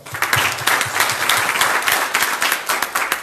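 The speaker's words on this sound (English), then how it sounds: "So let's give them a round of applause." Indoor audience applause at a merchant meeting in Hamtramck, Michigan, a dense steady patter of many hands clapping close by for about three seconds, with no talking over it.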